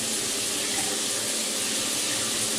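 A large 16-inch rain shower head runs steadily, a dense, even hiss of falling water that stays close and constant without a break.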